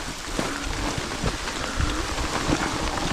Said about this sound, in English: that's pretty heavy rain